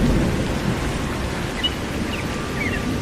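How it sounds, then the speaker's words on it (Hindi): Rain and thunder in a cartoon: steady dense rainfall fills the scene with a low rumbling thunder bed underneath, continuous and loud throughout with no voices. "अरे बारिश हो रहा है माँ"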